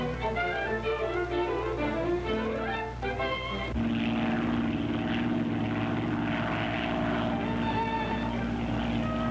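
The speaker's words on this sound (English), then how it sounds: "As the great engines of our flying clipper ships lift us once again into the sky" Pan Am clipper propeller airliner engines drone loudly and continuously during takeoff, shifting to a heavier, rumbling roar partway through as the plane powers up.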